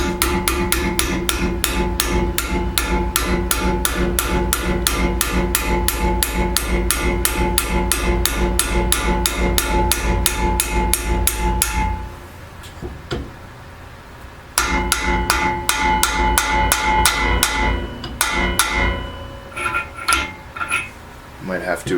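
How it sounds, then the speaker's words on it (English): Hammer taps a new auger bearing onto the shaft of an Ariens ST824 snowblower, a long run of rapid, steady metallic strikes close by that pause briefly midway, then resume more sparsely toward the end. "I already got all the never seize on here, so I'm just going to kind of tap it into place."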